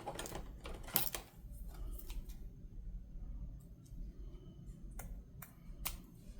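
Scissors trim paper for a handmade Christmas countdown calendar, a few crisp snips and rustles up close, scattered irregularly over a quiet background.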